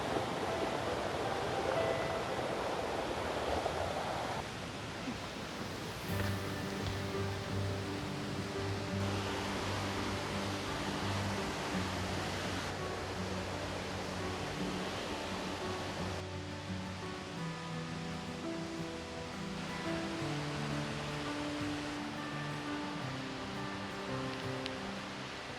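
River flowing through humid forest near the source of a waterfall, a steady broadband rush of water at moderate level throughout, with faint tonal background sounds and no talking.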